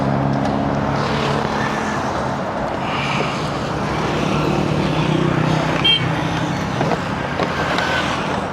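A petrol car engine runs with a steady, fairly loud hum and rumble, with faint road and traffic noise around it.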